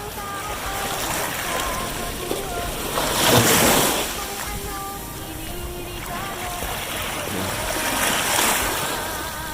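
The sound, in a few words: strong ocean waves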